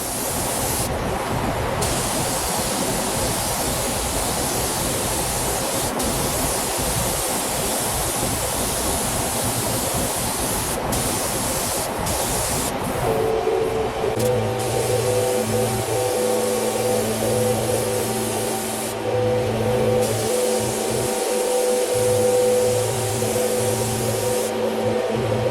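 A spray gun lays high build primer onto the bodywork of a Chevrolet Silverado truck bed, a loud continuous close hiss that runs unbroken, then gives way to a lower hum near the end.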